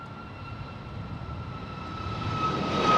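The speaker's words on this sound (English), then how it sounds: "Next departure right now, we got Southwest 3101," Southwest Boeing 737 MAX 8 departing San Jose airport, its engine roar building steadily and growing louder toward the end, with a thin steady whine riding above the broadband rumble.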